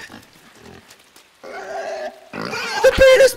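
A pig in the video game Inside grunts and oinks, then breaks into a loud, rising squeal at the end, close and alone without talk.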